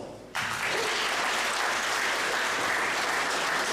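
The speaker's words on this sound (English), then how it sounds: "So big applause." Audience at a pitch competition award segment breaking into applause, quiet at first and then a sudden burst of full, sustained clapping from a crowd.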